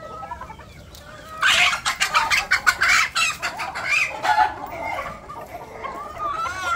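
Mother hens and grown chicks on a poultry farm cluck and cackle in a lively burst close by, several birds overlapping in quick rhythmic calls before settling into softer clucks.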